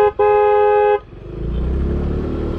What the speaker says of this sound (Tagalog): And, yung car horn din pala,